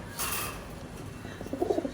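Pigeons in a loft on a rainy night give soft, low cooing that grows a little clearer toward the end, faint against a steady background hush.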